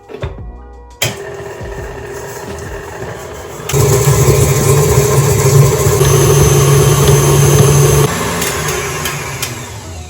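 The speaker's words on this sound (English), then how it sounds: "I'm going to attach my paddle attachment, and I'm going to beat this on a medium speed for about 1 to 2 minutes" A stand mixer with a paddle attachment beats butter and sugar at medium speed, a loud, steady motor hum that clicks on and later steps up in intensity, close and alone.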